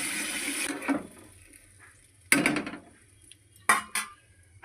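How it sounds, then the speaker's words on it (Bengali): Water is poured into a pot of raw pumpkin and potato curry for a thin katla fish stew, with splashing bursts and clinks of a vessel against the pot, close by and without talk. "একটু জল দিয়ে দিলাম"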